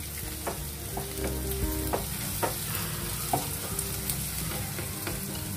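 Fish curry masala frying in a pan as curry leaves are stirred in, with a steady close sizzle and a few sharp scraping stir strokes spaced irregularly throughout; no one speaks.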